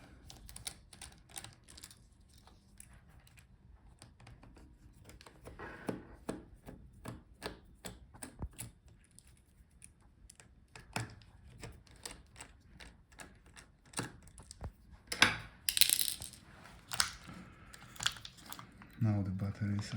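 Small screws are taken out of an MSI Creator 15 laptop during disassembly, giving a run of quiet, rapid clicks, taps and scrapes from the screwdriver, with a few louder knocks toward the end.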